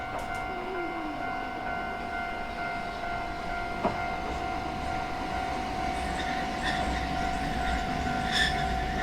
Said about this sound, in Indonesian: Ini kali pertama kami kembali menaiki densha atau kereta setelah beberapa waktu menghindari public transportation.